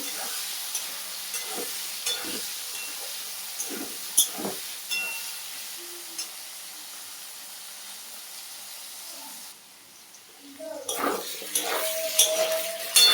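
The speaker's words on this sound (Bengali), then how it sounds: "আলুগুলো ভালো করে ভাজবো।" Potatoes sizzle gently in a pan of oil with browned cumin seeds while a utensil scrapes and clinks against it in irregular strokes; the frying briefly quiets, then resumes louder.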